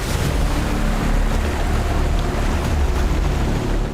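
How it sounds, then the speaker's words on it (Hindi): A large waterfall drops water from many feet high, a loud, close, constant broadband roar with heavy wind buffeting on the microphone. "झरने का पानी कई फीट ऊंचाई से नीचे गिर रहा था।"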